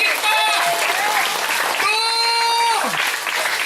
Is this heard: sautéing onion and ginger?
no